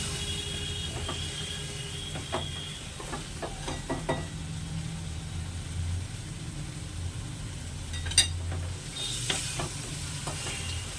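Chicken biryani ingredients are stirred and sautéed in a pot, a continuous sizzle broken by scraping and clinking spoon strokes, with a louder clatter near the end, close up and without talk.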